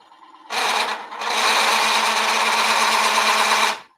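A Bowlsaver Max4 blade cuts a drying wooden bowl blank with a loud, continuous buzzing rasp, a brief dip near the start, the faint tinking buried within the steady cutting noise.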